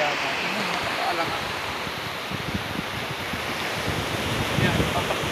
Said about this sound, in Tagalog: Pakita mo ang dagat.